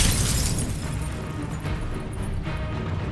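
A Protego shield spell in Hogwarts Legacy erupts as a loud bright magical burst, then sustained crackling and whooshing effects with further bursts during combat.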